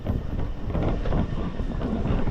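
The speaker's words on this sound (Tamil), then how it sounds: "ஓ ட்ரெயின் வந்துச்சுங்க" A train pulls into a station in Taiwan, a continuous loud low rumble of rolling wheels and carriages with wind buffeting the microphone and no talk.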